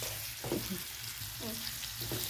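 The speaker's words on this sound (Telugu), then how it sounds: "బ్రౌన్ కలర్ వచ్చే వరకు ఫ్రై చేసుకోవాలి." Onions frying in a pan for restaurant-style aloo biryani, giving a steady close sizzle with a few brief stirring scrapes and no talking.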